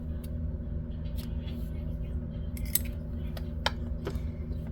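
Scissors snip through knitting yarn while finishing a small Spooky Cat knit kit piece, two or three crisp close clicks standing out over a steady low background hum.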